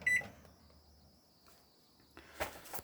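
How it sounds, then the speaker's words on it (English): A microwave oven running inside a 2017 Coachman Wanderer 17/4 caravan, a faint steady hum with a thin high whine, bracketed by a few soft clicks and knocks near the start and end. "Just going to show you the microwave working very briefly."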